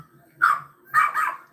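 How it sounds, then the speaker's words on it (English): A dog barks twice in a backyard outside a house, moderately distant, with short sharp yelps separated by quiet gaps and another bark starting at the end. "The doggy's barking in the back."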